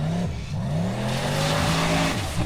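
A Formula Offroad race car in Iceland runs toward the final hill climb. Its engine drones loud and close, with pitch rising and falling as it revs and shifts over a constant rough roar.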